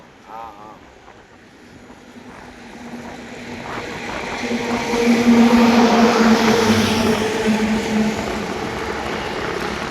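An IndiGo airliner taking off at Surat airport, its broad jet roar swelling from a distance to a steady loud rush, with wind buffeting the microphone and faint voices underneath.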